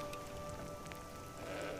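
A ram bleats in Skyrim, a fantasy video game, one short bleat heard close over a steady rain-like hiss of ambient game sound.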